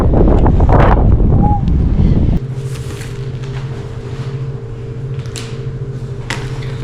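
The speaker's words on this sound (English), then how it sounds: "It's so windy out here." Strong wind buffets the microphone in loud gusts, the roar easing after a couple of seconds into a steady hum with faint rustling.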